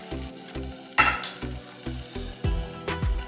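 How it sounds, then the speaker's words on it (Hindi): Eggs and potatoes sizzle in a little hot oil in a frying pan, the frying steady and close with a few sharp pan knocks and stirring scrapes, no one talking. "ये एक फ्राई पैन में हमने थोड़ा सा ऑयल लिया है, इसके अंदर हम डाल देंगे जो हमारे अंडे और आलू हैं"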